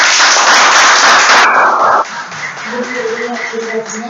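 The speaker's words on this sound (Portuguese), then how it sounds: "uma salva de palmas para vocês" Loud applause and cheering for winning girls on a local TV afternoon programme in Dois Irmãos, dense and sustained at first, then dropping off sharply about halfway as a voice starts talking over the fading claps.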